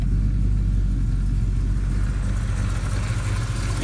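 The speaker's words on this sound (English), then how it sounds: "Lovely quiet engine. Very, very quiet." A fully restored ex-police Ford XE Falcon with a 351 Cleveland V8 idles close by, a steady deep low rumble with an even, quiet throb and no voices.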